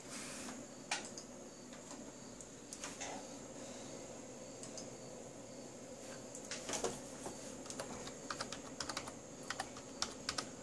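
Someone typing a password on a computer keyboard, with quiet, close key clicks in irregular runs and a few louder taps toward the end.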